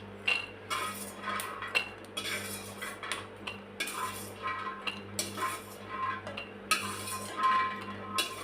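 Roasted peanuts are scooped into a bowl with repeated close clinks and scrapes of a spoon against dishes, steady and irregular, and a low hum runs underneath.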